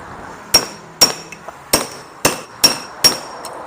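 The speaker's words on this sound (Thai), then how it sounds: "แล้วก็ตอกลงไปนะตอกลงไป" Six sharp metallic hammer blows at a steady pace, close and loud, driving a fan shaft into place, with a light tap near the end.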